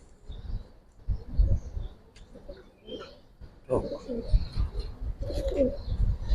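Soft coos from giribaz pigeons repeat in low, throaty bursts close by, with people talking intermittently over them.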